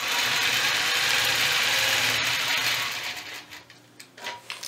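Sewing machine stitches a quilting line along a curve, a fast steady mechanical whirring and clatter at close range that slows and breaks into separate stops and starts toward the end.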